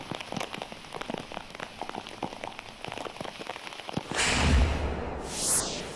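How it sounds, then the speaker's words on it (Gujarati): Heavy rain pouring down in Dhrangadhra, Gujarat, a dense, loud patter of drops on surfaces, swelling into a louder rushing wash near the end. "સુરેન્દ્રનગર જિલ્લામાં મોડી રાતથી ધોધમાર વરસાદ વરસી રહ્યો છે"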